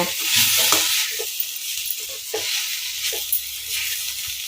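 Chopped coriander being stirred through a sizzling pan while making kuzhi paniyaram, a steady frying hiss with soft irregular scrapes and clinks of the spoon, close and alone.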